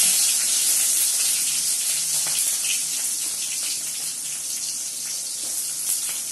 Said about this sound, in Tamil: வெங்காயத்தை வந்து போட்டுட்டோம்